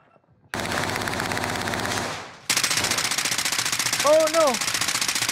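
Automatic video game gunfire in rapid bursts, a long continuous stream that cuts off briefly, then resumes loud and steady before running dry, with no talk over it.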